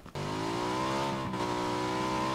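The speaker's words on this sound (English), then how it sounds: "I hear a motorcycle." A motorcycle engine in a video game drones steadily and loudly, its pitch rising slightly as it revs, running alone without talk.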